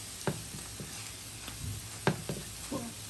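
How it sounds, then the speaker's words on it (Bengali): Breadcrumb- and egg-coated food frying in oil gives a soft, steady sizzle with scattered crackles and pops, quiet and close, with no talking. "তারপরে ব্রেড ক্রাম আর ডিমে সবাই আইছে লাল লাল করে ভাজি করে নিব।"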